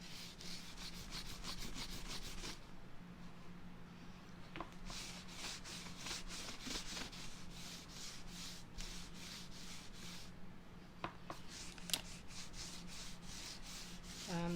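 A light coat of wax is rubbed onto a wooden surface with steady back-and-forth strokes, soft and close, with a couple of brief pauses and small taps.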